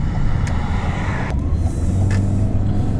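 A car accelerates while driving on a road, with a steady low engine and road rumble heard from inside the cabin and a few faint clicks and squeaks over it.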